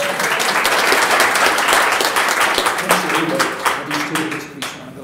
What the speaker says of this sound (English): Kendra Burgess, would you give her a round of applause?